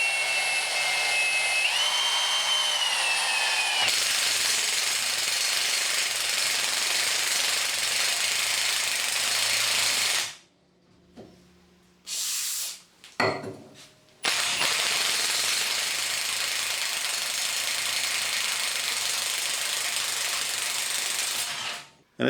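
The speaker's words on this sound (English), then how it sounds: "So I'm now going to drill a 22mm hole in this 3mm thick mild steel." A power drill with a step bit grinds steadily through 3mm mild steel, boring a 22mm hole, with a rising whine, stops, and then runs again for another long, loud stretch.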